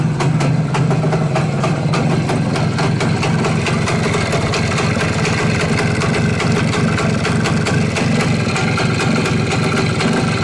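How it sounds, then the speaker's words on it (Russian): A Voskhod 3M motorcycle engine with a damaged exhaust idles loudly and close by, a steady rough putter with a fast, even pulse that carries on without a break, and no one speaks. "Ну что, ребят, завели мы восход."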